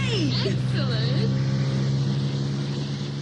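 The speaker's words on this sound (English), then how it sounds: "The boat headed for the open water." Motorboat engine as a dramatised audiobook sound effect: a loud, constant low droning hum that stays steady throughout, with faint higher whines and swishes drifting over it, close and continuous.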